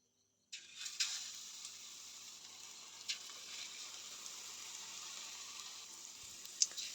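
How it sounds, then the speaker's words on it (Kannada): A little oil fries food in a pan with a steady, faint, hissing sizzle that starts suddenly and carries on evenly. A few small pops cut through. "ಒಂತೆನೆ ಎಣ್ಣೆ ಪಾಡ್ದು ಫ್ರೈ ಮನ್ಪುವೆ"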